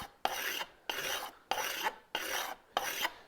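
A metal file is drawn across a blade edge in five even, rhythmic rasping strokes, each about a third of a second long with a short gap between, close and crisp with no talking.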